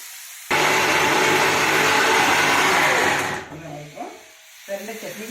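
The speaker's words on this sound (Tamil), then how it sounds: "ஃப்ரை ஆகிடுச்சுன்னா மிக்சியில் போட்டு கிரைண்ட் பண்ணிக்கலாம்." Kitchen mixer grinder blitzing fried pirandai for chutney: a loud, steady whirring roar for about three seconds that cuts off abruptly, followed by quieter clatter and a voice talking.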